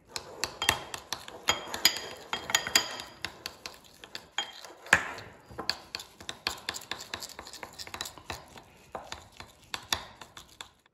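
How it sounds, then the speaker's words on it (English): A utensil scrapes and clinks against a mug as icing sugar is mixed into frosting for a red velvet mug cake, with irregular close taps and clatters. "Icing sugar, add it while mixing it."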